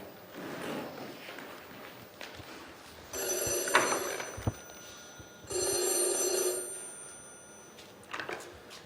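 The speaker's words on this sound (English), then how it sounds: "when the telephone rang" An old telephone bell rings in an apartment, two loud sustained bursts of jangling ringing separated by a short pause, with faint room noise and brief knocks in between.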